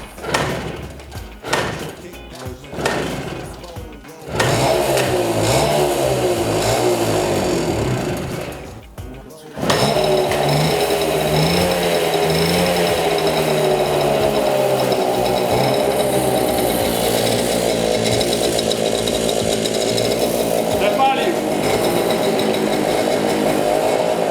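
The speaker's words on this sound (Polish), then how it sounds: "Natomiast sama motorynka odpaliła." A small Polish moped engine sputters through several short starting attempts, then catches and runs with a steady, buzzing two-stroke drone and occasional revs, loud and close, with a brief dip before settling again.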